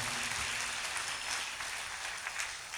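Congregation at a prayer meeting clapping together in a dense, steady wash of applause, distant and muffled under a low hum, lasting throughout.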